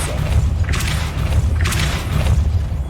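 The Depulso force spell cast in Hogwarts Legacy, heard as a deep, rumbling mechanical whoosh with booming thuds and creaking, swelling in two or three loud surges over a sustained low drone.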